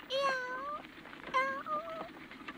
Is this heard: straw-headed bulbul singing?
no